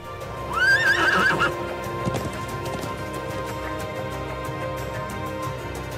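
A horse in the video game Trails of Cold Steel gives a loud, rising whinny near the start, followed by clip-clop hoofbeats and light scattered footfalls as the neigh fades.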